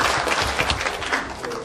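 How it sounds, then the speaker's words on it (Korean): A hall audience at an anniversary ceremony for a local newspaper day applauds warmly, a brief steady burst of clapping with no talk over it. "우리 김용숙 회장님 뜨거운 박수 좀 부탁드릴까요?"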